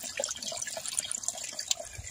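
Falling water at the bottom of the waterfalls at Siccar Point, Scotland, heard as a steady, fairly faint outdoor splashing and trickling with no voices.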